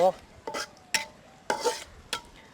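Onion and green chili frying in a pan, with about five separate clinks and scrapes of a utensil stirring against the metal over a faint, low sizzle. The stirring sounds come at a loose, irregular rhythm and are heard close up, with no voices.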